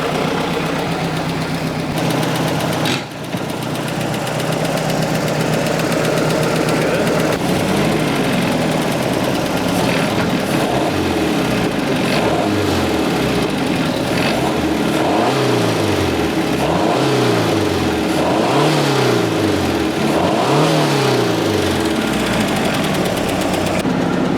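A budget-build boat's engine runs and idles steadily, a loud continuous mechanical drone with a rhythmic, pulsing throb that swells and dips in repeating waves, no voices over it.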